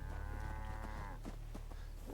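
A cow lows once in a game's farm setting, a steady drawn-out moo lasting about a second, fairly clear against a low humming background, followed by faint scattered clicks.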